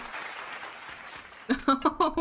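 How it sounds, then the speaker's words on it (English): A short burst of clapping is heard, then a voice cuts in with loud, clipped vocal sounds. "Why would you clap for me at my lowest moment?"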